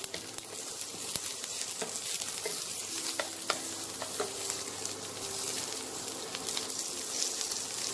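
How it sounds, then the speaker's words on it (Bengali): Onions fry on a medium flame in a pan, a low steady sizzle with soft stirring scrapes and occasional spoon clicks over eight seconds, close but quiet. "পেঁয়াজটা আমার হালকা ভাজা ভাজা হয়েছে"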